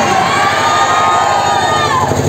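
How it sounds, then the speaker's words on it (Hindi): Large, dense crowd at a fan meetup, a loud continuous roar of many voices with cheering and traffic noise mixed in. "भाई गजब का क्राउड है भाई।"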